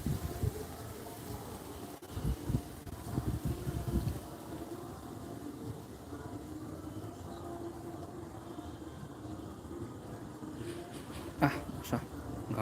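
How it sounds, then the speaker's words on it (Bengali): Cold north wind blows steadily outdoors at night, a low rumbling gusting roar buffeting close with pulsing surges early on, then a softer continuous rush with a couple of brief knocks near the end. "এত হাওয়া দিচ্ছে আজকে"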